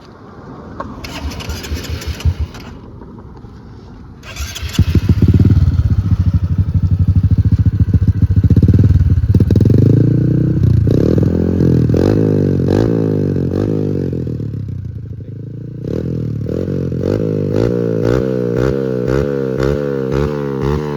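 A Honda Supra X 125 standard motorcycle engine starts, then idles and revs repeatedly up close, loud and steady, with throttle blips rising and falling over about twenty seconds.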